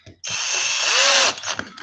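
A power screwdriver drives a screw into a door handle at home, one continuous close, loud whir of about a second, followed by a few faint taps.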